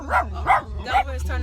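A big black dog lets out three short, loud barks close by, each one a quick rising and falling yelp in a tight burst.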